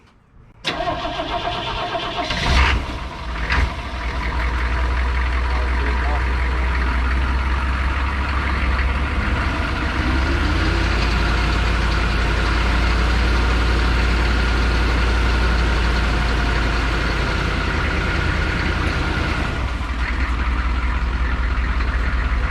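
A 1969 Chevy C-30 pickup converted to a 6.5 turbo diesel cranks briefly, catches, and settles into a loud, steady, close diesel idle with a deep rumble that carries on throughout.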